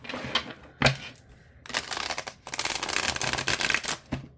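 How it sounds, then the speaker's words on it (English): A tarot card deck is shuffled nearby: a few crisp flicks and riffles, then a long, rapid fluttering riffle of the deck, with no voices. "let's see how it shuffles"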